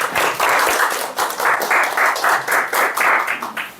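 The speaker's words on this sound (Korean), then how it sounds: "큰 박수로 모십시오" Close applause from a seated audience at an education briefing session, welcoming a presenter with a fairly loud, rhythmic burst of clapping that swells in pulses and tapers off at the end.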